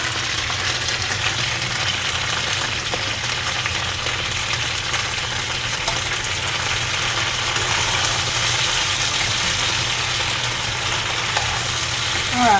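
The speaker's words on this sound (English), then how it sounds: "while these taters are frying" Potatoes frying in a pan, a steady broadband sizzle holding even and moderately loud throughout, no voices over it.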